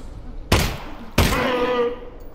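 Two sharp gunshots about half a second apart in the VR game Half-Life: Alyx, loud and close, the second followed by a brief ringing tail over a quiet room background.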